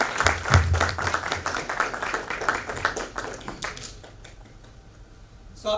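An audience applauds to welcome a speaker at a Kangen Water demonstration, a dense burst of clapping that thins out and fades to near quiet after about four seconds.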